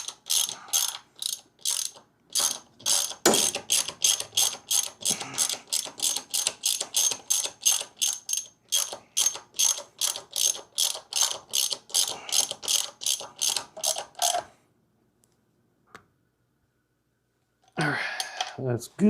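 Rapid ratchet clicking while bolts are tightened on a 2024 Harley-Davidson Road Glide, close and loud in a long steady run of quick strokes, then a pause before a short final burst.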